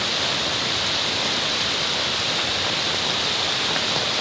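Typhoon floodwater falling and surging downhill produces a steady, loud, hissing roar that holds constant throughout, heard up close with no voices.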